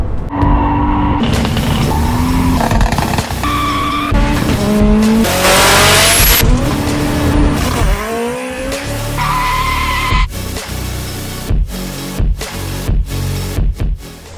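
A BMW E46 drifts on a track, its engine revving hard and loud as tires squeal and skid in long screeching bursts, followed by choppy engine cuts and further revving, with no talking.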